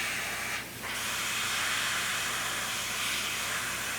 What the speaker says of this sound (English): Now you notice that when I'm spraying this, I'm not getting a lot of overspray